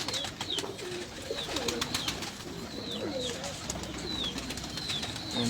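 Pigeons coo steadily from a Lahore rooftop loft, soft repeated throaty calls layered over one another with faint outdoor background noise and no talking.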